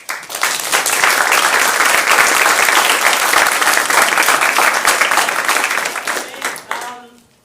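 A lecture audience applauds loudly and steadily in a hall, dense sustained clapping lasting about seven seconds before fading out at the end.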